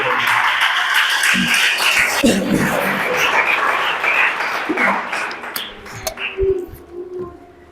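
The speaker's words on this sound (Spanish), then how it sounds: "¿Cuánto dan un fuerte aplauso a aquel que vive?" A church congregation at a Spanish-language sermon bursts into loud applause, dense clapping that gradually thins and tapers toward the end, with faint background voices under it.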